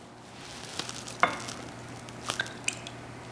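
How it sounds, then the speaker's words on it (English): Gluten-free pancake batter with buttermilk being stirred in a bowl, giving soft wet squishes and a few light scrapes and clicks, fairly quiet and without talk. "we just want to stir it until it's combined"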